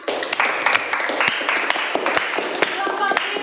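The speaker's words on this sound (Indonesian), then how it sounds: "Tepuk tangan dulu." A classroom of students clapping hands together, a burst of quick, uneven claps close by with some voices mixed in, lasting a few seconds.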